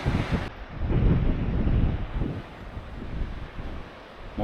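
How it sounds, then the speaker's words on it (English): Strong gusting wind buffets the microphone on a coastal cliff path, rumbling in heavy surges that rise and fall over distant sea and seabird colonies. "We're blowing away in the breeze."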